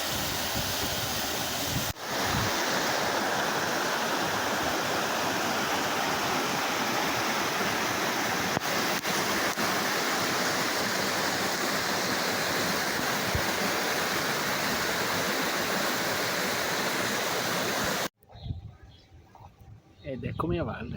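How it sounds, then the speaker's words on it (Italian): A mountain waterfall pours steadily into a clear pool along a river gorge, a loud, continuous broadband roar that fills the scene before cutting off abruptly near the end, when a brief muffled sound follows. "Super cascata"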